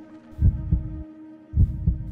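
A heartbeat sound effect in a Roblox game thumps low and loud in two paired lub-dub beats about a second apart, with a faint hum underneath and no talking.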